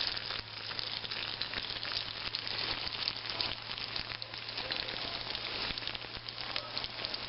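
Fish and potato cakes made with leeks and dusted with flour sizzle in a frying pan, a steady, close, crackling hiss over a faint low hum, with no talking.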